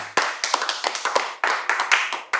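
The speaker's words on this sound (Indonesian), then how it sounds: "Tepuk tangan" A small group claps hands in quick, uneven bursts, sharp close slaps in irregular clusters with brief gaps between them.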